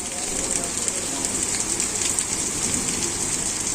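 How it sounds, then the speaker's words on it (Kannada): Heavy post-monsoon rain falls steadily in Karnataka, a dense, even hiss of drops pattering on surfaces with no pauses, loud and continuous throughout with no voices. "ರಾಜ್ಯದಲ್ಲಿ ಮುಂಗಾರು ಮಳೆ ಮುಕ್ತಾಯವಾಗಿದ್ದು ಹಿಂಗಾರು ಮಳೆಯ ಅಬ್ಬರ ಶುರುವಾಗಿದೆ."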